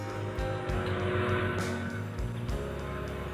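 Samsung DV80M5010QX clothes dryer, after a motor repair, runs with a steady loud mechanical hum and a rhythmic thumping rumble, with occasional clicks and knocks over the continuous drone.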